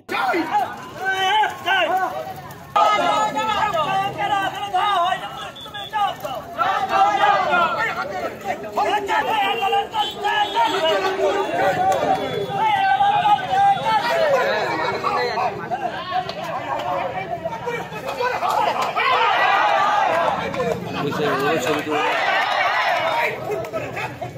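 Villagers protesting on a road blocked with burning tyres near Diamond Harbour over a missing teenager, a dense, agitated crowd babble of many overlapping voices, loud and continuous with shouting and movement throughout.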